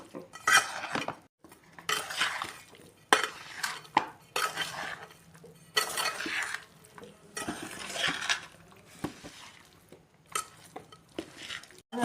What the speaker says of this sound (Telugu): నిమ్మకాయలు కారం కలిపేదాకా కలిసేదాకా కలుపుకోవాలి మనము